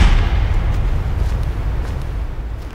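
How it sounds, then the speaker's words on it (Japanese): A gunshot heard as a loud, low, rumbling boom at the start that slowly fades over a few seconds, with no voices. "銃声。"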